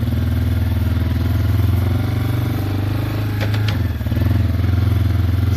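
Close and loud, the rebuilt Yamaha Wolverine ATV engine chugs steadily while riding, revving slightly high, with a brief dip and a couple of sharp clicks near the end over the continuous throb.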